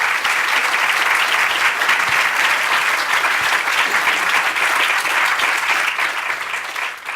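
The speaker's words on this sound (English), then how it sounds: "Could we have a quick round of applause for our panel" A round of applause for a panel at a low-carbon transition discussion, dense, even clapping from a sizable audience that holds steady and tapers slightly at the end.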